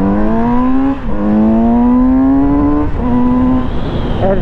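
A Kawasaki Z900 RS motorcycle, 111 hp and 215 kg, running its full stock exhaust, revs hard and close. The engine note climbs in pitch through successive gear changes, with brief dips between pulls, and rings loud and clear throughout.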